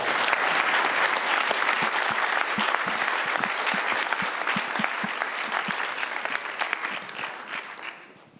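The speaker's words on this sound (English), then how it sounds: "Let's give a round of applause." A live audience gives a sustained round of applause after a talk, dense steady clapping from many hands that holds for several seconds before gradually thinning and fading at the end.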